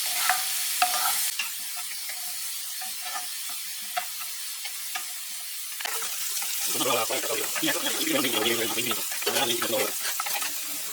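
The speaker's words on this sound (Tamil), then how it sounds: "ஒரு வெங்காயம் தான் வெட்டி நம்ம இதை வந்து வதக்குறோம் நல்லா ப்ரௌனாக வர வரையும் வதக்கணும் ப்ளஸ் கொஞ்சம் கருவேப்பிலை போட்டு நம்ம வதக்குறோம்" Chopped onion and curry leaves sauté in a pan, with soft sizzling and stirring scrapes that swell louder in the second half, close by with a few knocks and no talk over it.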